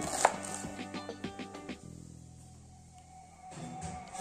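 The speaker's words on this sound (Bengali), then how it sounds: "দুটি পেঁয়াজ ছোট ছোট করে কেটে নেব।" A knife chops two onions into small pieces on a board, a quick run of even, close taps that stops partway, followed by faint kitchen hum.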